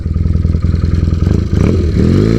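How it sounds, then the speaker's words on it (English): A light, compact motorcycle rides through town, its engine chugging loudly and close with a steady pulsing beat before revving up toward the end. "But I love riding this bike through town."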